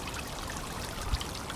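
Water trickles softly and steadily in a backyard fountain lit by an LED from below, a faint continuous splashing with one small louder drop near the end.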